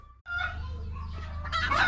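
Chandana breed hens brought for brooding cluck and call close by in a short, busy burst, their sharp squawks rising toward the end.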